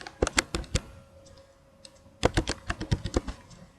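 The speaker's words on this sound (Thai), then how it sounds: "จากนั้นเราก็พิมพ์ชื่อที่เราได้สมัครไปแล้วนั้น" Username entered on a computer keyboard in two quick bursts of crisp key clicks separated by a short pause, close and fairly quiet.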